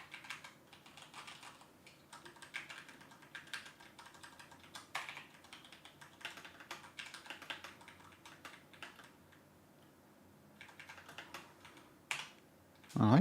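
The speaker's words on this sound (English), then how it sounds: "I can still type. It's a bit strange to type though." Someone types on a computer keyboard at a steady, uneven patter of quiet close key clicks, with brief pauses between bursts, before a louder thump right at the end.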